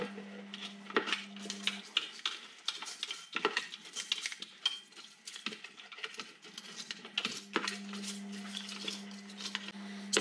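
Mill spindle bearing being washed: wet metallic clinks, rattles and splashy patter come in irregular bursts close by, over a steady low hum, with no voices.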